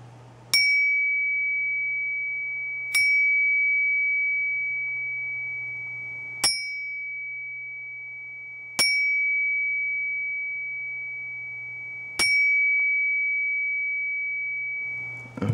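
An object struck five times at spaced intervals to find its resonant frequency; each hit gives a sharp attack and a clear, sustained pure ringing tone that slowly decays before the next strike, with no talking.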